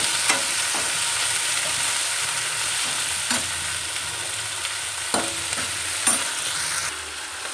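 Onion, tomato, coriander and mint frying in a pan for mutton sambar, a steady close sizzle with a few sharp stirring knocks and scrapes, no talk.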